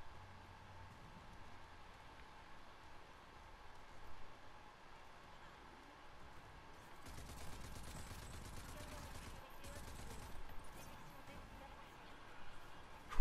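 Gunfire in the video game Rage 2: quiet, muffled crackling shots that grow into a denser burst of rapid fire through the second half, with faint talk underneath.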